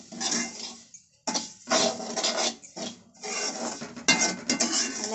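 Semolina and grated coconut roasting in a pan for rava laddu, with a spoon scraping and clinking against the metal in bursts of stirring separated by short pauses, close and moderately loud, no talk.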